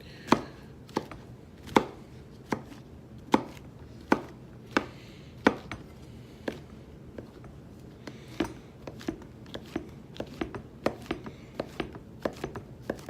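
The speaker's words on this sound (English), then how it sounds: "And then I'm just going to chop those up pretty fine." Mushrooms being finely chopped with a knife for vegan chili, a steady series of sharp, close blade thuds on a board, spaced unevenly at first and quickening toward the end, with no talking.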